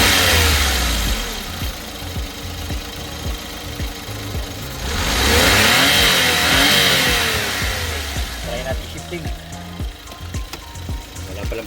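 Suzuki DA64W turbo wagon with automatic transmission, engine running close by, with a steady mid-pitched hum that swells into a rev around the middle before settling back to idle, no voices.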